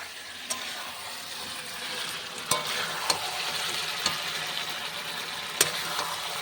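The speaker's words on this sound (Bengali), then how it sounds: "এবার দিয়ে মাংসটাকে একটু কষিয়ে নেবে।" Chicken with meat masala sautéing in a pan, a steady close sizzle with occasional sharp clicks of a spoon against the pan, no talking.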